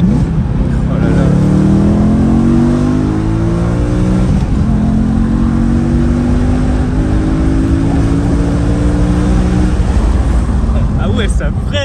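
A BMW M3 E92 engine revs hard while drifting, loud and close throughout, with harmonics sweeping up and down as the throttle rises and falls, and voices talking over it.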